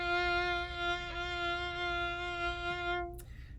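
A violin is bowed on a single sustained note with wavering vibrato, the left and right hands poorly coordinated, so the tone is bright but uneven. The note cuts off sharply near the end, leaving faint noise.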